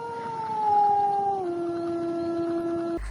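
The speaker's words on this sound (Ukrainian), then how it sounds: "За Забобон собака виє до покійника." A dog howls in a single long, sustained tone that drops slightly in pitch partway through, fairly close and clear against a quiet background.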